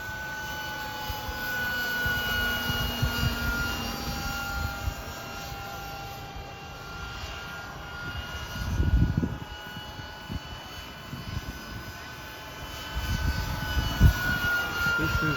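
An electric ducted-fan model jet, an ePower conversion of a Vario nitro model, flies with its impeller spinning around 16,000 RPM, giving a steady whine that rises and falls as it passes, with louder gusty bursts.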